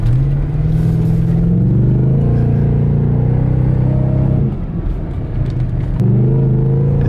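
A truck runs on a freshly built dirt track with tight turns, engine droning loud and close, pitch climbing and dipping as it accelerates, eases off mid-run, then revs up again.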